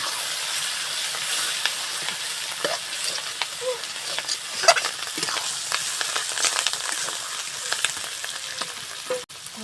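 Eggs sizzle in hot oil with fried chili, onion and garlic, a steady crackling fry with scattered pops and scraping stirs throughout, close and fairly loud with no talk.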